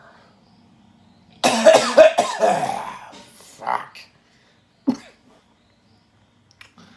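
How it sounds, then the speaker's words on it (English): A burst of harsh coughing up close, followed by a couple of shorter coughs and a brief muttered word, then quiet. "I'm just gonna cough."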